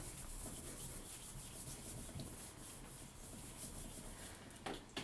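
Sugar paste on a Mother's Day cake being smoothed on a board, giving a continuous soft, close rubbing swish with no talking.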